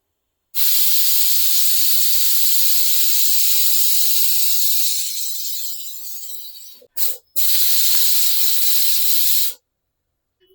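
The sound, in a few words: pressure cooker whistling while cooking chicken kurma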